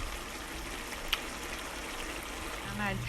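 Water from cooked meat drains out of a pot into a sink in a home kitchen, a soft continuous trickle and pour with a small clink partway through and a brief hum at the end.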